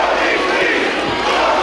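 Wrestling crowd of about 1,200 at a Limitless Wrestling show, cheering and shouting loudly in a dense, continuous roar that fills the whole moment.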